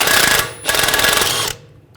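A pneumatic impact tool on a triple square M14 socket rattles in two loud, rapid bursts while loosening a front strut mount bolt on a 2009-2017 Volkswagen Tiguan, then the noise stops abruptly.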